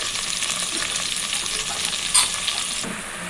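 Okra frying in oil with onions and tomatoes for a village-style stew: a dense, steady close sizzle with stirring throughout and no talk.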